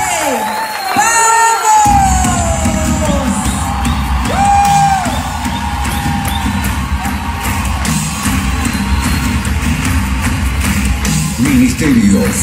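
A church congregation at an evening worship event cheers loudly and steadily, with whoops and high shouts rising over a dense crowd roar that fills the whole stretch.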